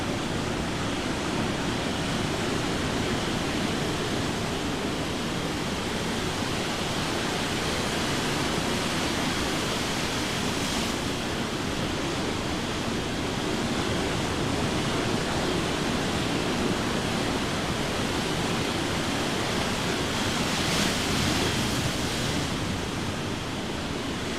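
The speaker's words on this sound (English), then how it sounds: "Look at this tsunami wave coming in." A tsunami wave surges in along a rocky shoreline, making a loud, continuous roar of rushing water and surf that holds steady throughout with no voices.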